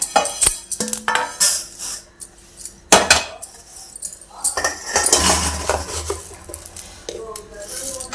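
A metal spoon clinks and scrapes against a pan and bowl as fried spices for an amla (Indian gooseberry) pickle are transferred. The clatters come loud and close in irregular bursts, with a person talking briefly in between.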